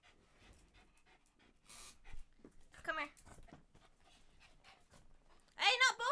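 Puppies pant in short, breathy bursts close by, with scattered faint whimpers and a louder burst at the end, while someone speaks briefly.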